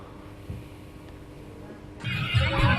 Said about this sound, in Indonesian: dengan mendatangkan 2 unit kuda yang akan mengelilingi lokasi wisata di Pantai Putra Deli